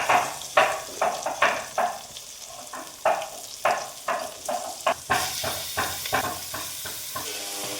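Meat fried in spice masala gives a loud, close sizzle, with repeated scraping spatula strokes in an uneven rhythm, and the hiss swells louder toward the end.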